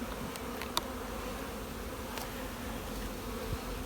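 Honeybees hum steadily around an open hive during spring inspection of the brood chamber, a continuous drone with a few brief closer buzzes passing by.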